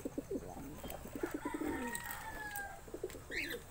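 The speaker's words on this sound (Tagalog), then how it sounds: "Ang kalapati." Pigeons, a mated pair, give soft, repeated low coos close by, a steady bubbling murmur with faint bird chirps near the end and no talking.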